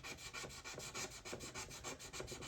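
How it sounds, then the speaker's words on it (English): A cotton bud dampened with white spirit rubbed over the painted hull of an RC model fishing boat, a soft, quiet, rhythmic scrubbing that repeats in short back-and-forth strokes. "I'm just going to rub on the area."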